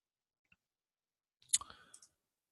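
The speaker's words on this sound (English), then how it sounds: "and then I can click update" A few faint, close mouse clicks come in a short cluster in an otherwise quiet room, with a single tiny tick just before.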